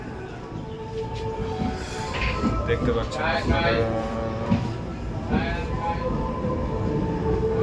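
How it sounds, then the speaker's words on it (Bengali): Train pulling out of Amethi station on a cold, windy morning, a steady low rumble and wheel clatter from on board, with someone speaking and other voices mixed in. "চাই চাই তো ট্রেন ছেড়ে দিল"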